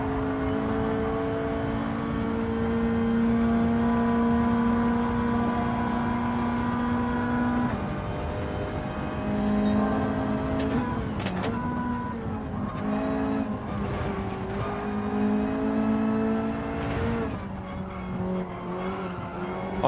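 A race car engine in Gran Turismo 7 holds a loud, sustained whine that rises and drops through gear changes. Brief tire squeals and skids break in partway through, with no talking.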